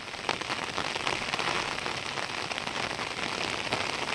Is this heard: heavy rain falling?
yes